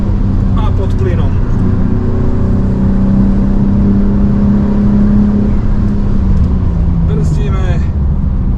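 A car accelerates hard along the Nürburgring Nordschleife on a tourist lap, its engine a loud, steady, close drone heard from inside the cabin, with a faint voice at moments.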